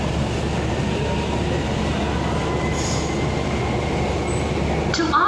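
A Kochi Metro train runs with a loud, steady rumble of wheels on rail that holds through the whole stretch, with a brief brighter tone near the end.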